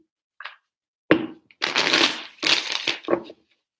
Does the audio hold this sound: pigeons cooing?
no